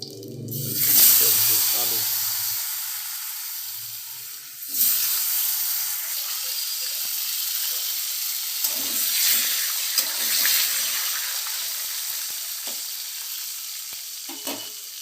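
Potatoes drop into hot oil with cumin seeds and bay leaf, bursting into a loud hiss that slowly fades, then a second surge of sizzling follows with light clatter, and a voice is briefly audible at the start.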